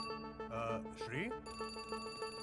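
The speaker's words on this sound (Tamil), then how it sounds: "டேய் ஷீலாக்கு ஃபோன் பண்ணியா?" A telephone rings with a repeated electronic tone pattern, moderately quiet and set against a faint voice.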